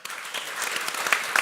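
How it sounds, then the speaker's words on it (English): Warm audience applause for performers at a live evening show in Estonia, a dense, steady clapping from a crowd that swells slightly and carries on without pause, with no talking over it. "really big warm up applause to our performers."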